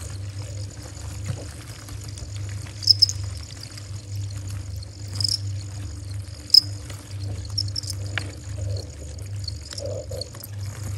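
Crickets chirp steadily in a garden at night, a continuous high trilling with a low hum beneath, joined by a few sharper close chirps and scattered faint clicks.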